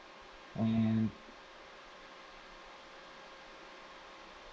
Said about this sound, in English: Sorry about the fan, it is a little loud.